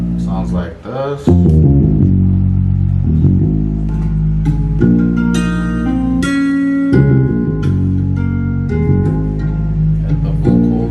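A deep, thick hip-hop beat plays loud and continuous with a guitar part layered over it, heavy bass underneath and plucked melodic notes and chords shifting across the bar.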